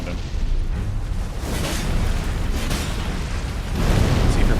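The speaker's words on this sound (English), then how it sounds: "if you're far enough away, you'll see the explosion" An in-game explosion from Elden Ring Shadow of the Erdtree, with fire spreading across the ground: dense rumbling bursts rising and falling, with a heavier surge near the end.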